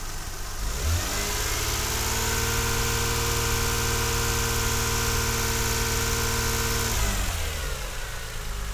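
A car engine fitted with an oil pressure test set is revved to about 2000 RPM. The idle climbs to a steady, held rev with a smooth, loud hum, then drops back to idle near the end.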